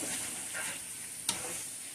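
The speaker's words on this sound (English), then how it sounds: "Give this a quick stir" Cheesesteak meat seasoned with pepper sizzles softly in a pan as it gets a quick stir, a steady hiss broken by one sharp clink of the utensil.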